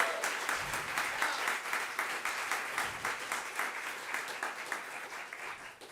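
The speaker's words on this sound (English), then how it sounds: "Please give her a round of applause." A room claps for a voice professor at an undergraduate jazz voice recital, with steady, fairly soft, even applause that tapers slightly toward the end.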